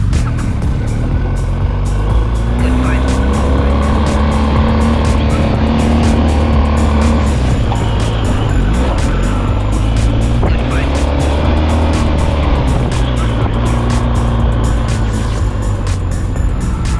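BMW GS motorcycle engine at an enduro training park, held in first gear with a little throttle: a steady, loud, continuous engine drone with slight rises in revs, close by.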